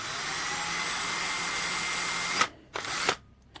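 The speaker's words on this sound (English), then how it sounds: "basically I'm going to drill these rivets out" A small power drill whines steadily at close range drilling out rivets on a Corgi Bentley Continental model car, then stops abruptly, followed by two short bursts of drilling.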